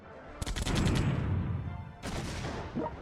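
Several generals firing at once in World Conqueror 3, with a dense rattle of overlapping shots in two volleys separated by a short lull, moderately loud.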